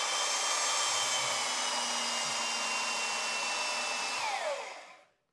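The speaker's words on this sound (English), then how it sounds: "Belt sander," Belt sander running steadily in a small workshop, a loud even whirring whine that holds constant before winding down and stopping near the end.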